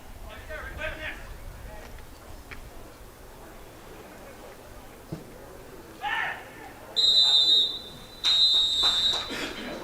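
Referee's whistle blowing for halftime at a men's over-45 provincial cup final soccer match at Minoru Park, Richmond: a few loud, sustained shrill blasts near the end, over faint outdoor crowd murmur.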